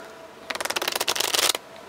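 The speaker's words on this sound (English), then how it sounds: "Okay, just for you, we'll do a proper shuffle." A deck of playing cards is riffle shuffled at a magic shop counter, a quick rapid flutter of cards snapping together for about a second, close and crisp, ending abruptly in quiet.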